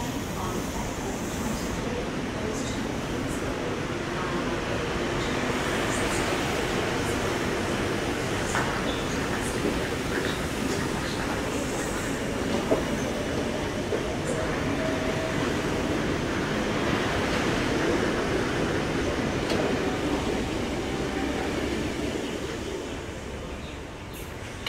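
A Sydney Trains City Circle service pulls out of platform 21 at Central Station, a steady broad rumble and rolling rail noise holding for about twenty seconds before easing off at the end.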